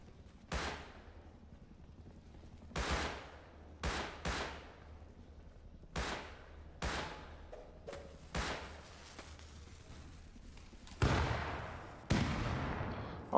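Gunfire in the survival game Rust, heard as about eight sharp separate shots spaced irregularly over several seconds, followed by two louder, longer bursts near the end, with no talking.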